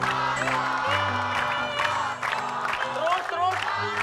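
A television studio audience shouts and cheers together for a Suzuki motorbike prize, a loud sustained crowd roar with whoops mixed in under music, steady throughout.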